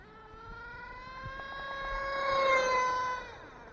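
A RedCat Racing Earthquake 3.5 RC truck runs at about three-quarter throttle off-road, its motor whining in a steady rising tone that swells louder toward the middle and then eases off, with no voices.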